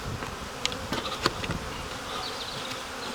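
Honey bees buzzing loudly and steadily up close at an opened hive, a dense swarm hum with a few sharper passing drones and light handling knocks.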